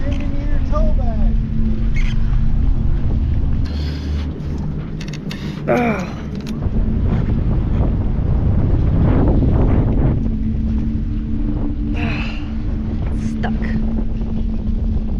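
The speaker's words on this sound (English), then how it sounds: "the wind is also annoying" Strong wind buffets a small boat arriving at a rocky spot near Key West, a steady roar of gusts on the microphone over low engine rumble, with people talking and calling out throughout.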